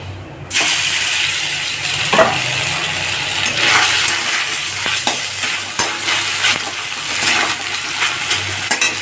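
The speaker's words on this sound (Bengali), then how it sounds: "কড়াইতে দিয়ে দিয়েছি সাদা তেল চিকেনের টুকরোগুলোকে ভেজে নেব" Chicken pieces fry in white oil in a wok, a loud, steady, close sizzle that carries through the whole stretch with a few scraping stirs and crackles.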